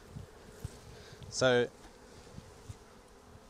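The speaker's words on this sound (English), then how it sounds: "just shake these bees off." Honey bees at a Flow Hive in cold weather, one bee buzzing loudly and close for a brief moment amid faint background sounds, with a voice speaking briefly.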